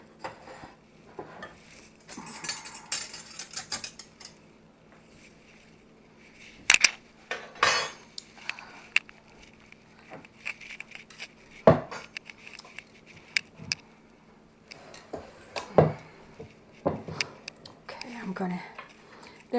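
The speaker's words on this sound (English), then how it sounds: "I'm doing a lot of pounding, I'm sorry," Pots, pans and utensils clatter and knock in a home kitchen while a hamburger casserole is stirred and pounded, with sharp metallic hits scattered irregularly over a quiet background and soft talk in places.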